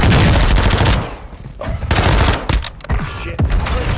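Dense, loud bursts of automatic gunfire in Call of Duty: Modern Warfare II, rapid rattling volleys that break off briefly and then resume in short flurries.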